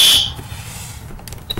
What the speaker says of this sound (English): This turns your alarm on.